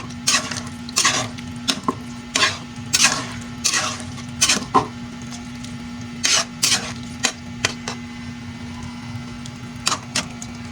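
A spoon scrapes and clanks through vegetables and water in a cooking pot for pancit bato guisado, heard as short irregular bursts of stirring over a steady background hum, close and moderately loud.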